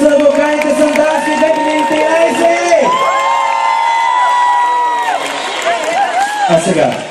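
Festival crowd at the Balkan Youth Festival in Sandanski, 2013, cheering and whooping loudly and continuously at an outdoor live concert, with shouts, sung melodic voices and bright bursts of noise over a steady roar.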